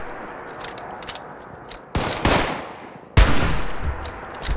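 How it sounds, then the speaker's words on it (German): Gunfire between two players in Fallout 76: a low rattle of distant shots runs through the clip, broken by two loud, sharp nearby bursts of gunfire, each with a ringing tail. "Stehen zwei Leute vor sich und versuchen aufeinander zu schießen."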